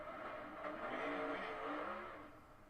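In-car sound from a NASCAR Next Gen race car at Daytona, a steady, moderately loud engine drone with shifting harmonic tones and a faint rattling, popping drivetrain, with no speech.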